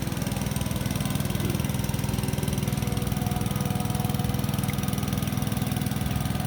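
A Caterpillar CAT 313D2 GC excavator digging a pond after heavy rain, its engine running in a steady, close, continuous drone with an even low throb and no talking.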